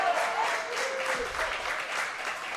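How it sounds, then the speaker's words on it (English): Restaurant crowd at Buffalo Wild Wings applauding a softball team, a loud, steady burst of clapping that carries on for the whole stretch, with a faint voice briefly audible underneath. "Round of applause for the softball team."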